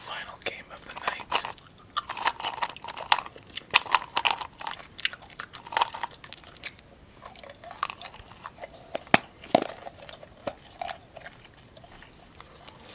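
Gum is chewed close to the microphone, with wet, sticky smacks and clicks in quick irregular bursts through the whole stretch, and faint whispering mixed in.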